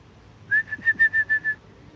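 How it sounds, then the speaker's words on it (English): A person whistles to call kangaroos in a kangaroo enclosure at Noah's Ark in Williamstown, Kentucky: a quick run of six short, bright whistle pulses, close and fairly soft, with no talking. "I guess whistling doesn't work."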